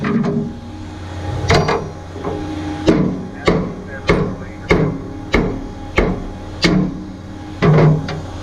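Metal bar prying at the hood bolts of a CAT D10T bulldozer, giving a steady series of about ten sharp metallic knocks at a regular pace, loud and close.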